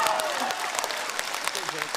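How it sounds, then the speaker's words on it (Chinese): A theater audience at a Chinese crosstalk performance breaks into applause, a rolling patter of clapping heard together with a performer's voice speaking over it. "就冲这个力气就值得鼓掌，我告诉你"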